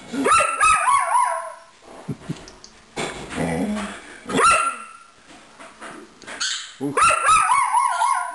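A dog barks repeatedly in loud, rising yips, mixed with high whining and whimpering between bursts, close by.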